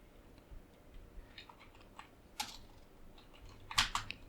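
Quiet, sparse keystrokes on a computer keyboard while a letter is typed in MS Word, with scattered clicks and a louder cluster of taps near the end; no one speaks.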